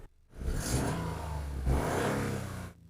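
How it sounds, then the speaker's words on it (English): A Toyota GR Yaris three-cylinder engine in sport mode revs hard twice, each surge a loud, raspy climb that holds and then falls away, heard close up with no talking. "I'm gonna start up our 3-cylinder engine."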